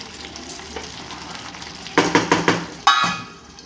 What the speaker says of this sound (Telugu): యాడ్ చేసి బాగా మిక్స్ చేసుకోవాలి.